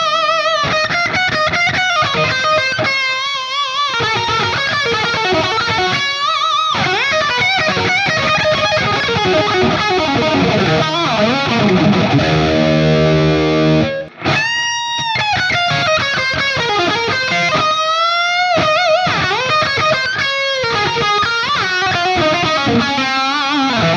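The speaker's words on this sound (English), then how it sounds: "let's have a listen to how this thing sounds with a bit of a boosted front end" Electric guitar through a modded Marshall JCM800 2203 amp with a boosted front end and delay, playing loud, distorted riffs and sustained lead notes with echoing repeats and a brief drop near the middle, with no talking.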